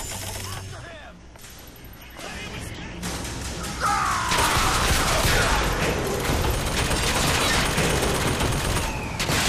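Gunfire in BioShock Infinite, a dense, noisy barrage of shots and crashing impacts. It is loud and sustained and grows heavier midway, with a voice briefly heard in the mix.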